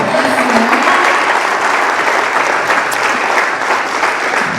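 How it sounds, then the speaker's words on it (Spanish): A congregation in a Spanish-language church service claps steadily together, a dense, loud wash of applause filling the room without pause from start to finish. "Denle un aplauso al Señor."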